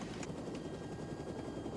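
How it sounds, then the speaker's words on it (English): A helicopter drones steadily in flight, a dense continuous rotor and engine roar heard from inside or close by, with no pauses. "I want you to land this helicopter."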